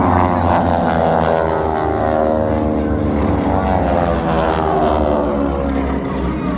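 Propeller aircraft inbound over a night airshow at Sun 'n Fun drone loudly, with a steady buzzing engine roar that swells as they pass close by.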